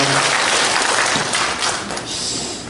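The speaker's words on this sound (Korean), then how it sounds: "하나님께 큰 박수 올려드립니다." A church congregation breaks into steady, dense applause for God during a Sunday service, a continuous wash of close clapping that carries on alone without any talking.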